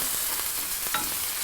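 Chicken, vegetables and garlic stir-frying in a hot pan, a steady bright sizzle with a few scraping stirs, close and alone with no talking.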